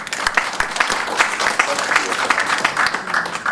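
An audience at a political talk on money politics applauds with a dense, steady patter of clapping, moderately loud, with voices mixed in.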